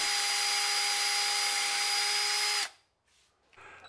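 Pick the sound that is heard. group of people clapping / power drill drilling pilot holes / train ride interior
power drill drilling pilot holes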